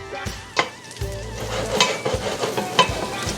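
Chili and garlic sizzle steadily in hot oil in a pan, with a few spoon-stirring scrapes and clinks cutting through the close, continuous frying hiss; no talking.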